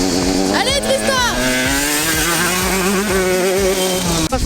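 A motorcycle ridden by Tristan, engine loud and continuous with rising and falling revs across several gear changes, a voice talking over it throughout.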